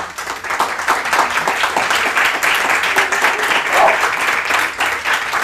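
A church conference audience breaks into steady, dense applause, many hands clapping together for several seconds, fairly close and loud throughout.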